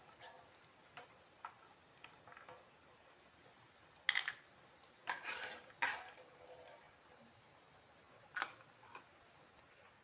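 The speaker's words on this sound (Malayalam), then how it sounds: "അത് ബദാം നമ്മൾ കോരി മാറ്റി." A utensil scoops fried almonds out of a pan, giving a few scattered metallic clinks and scrapes, with a cluster of louder knocks in the middle and a faint quiet background between them.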